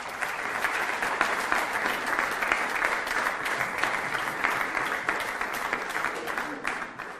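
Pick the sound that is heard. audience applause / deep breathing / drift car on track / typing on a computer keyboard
audience applause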